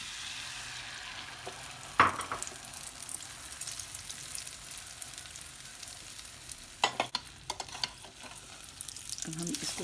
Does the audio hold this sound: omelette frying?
yes